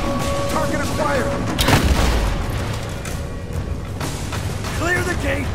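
Booming blasts and scattered gunfire from a battle in Rise of the Tomb Raider, with a loud burst near the middle over a constant rumbling din, while voices shout throughout.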